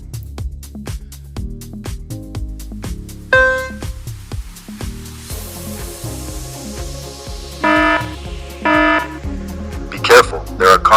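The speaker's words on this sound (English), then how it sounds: "If you spot both carnivores and herbivores together, sound the alarm." A rapid series of electronic beeps and buzzing alarm tones, with a rising siren-like sweep and scattered bleeps, sounding from a robot car's nearby speaker.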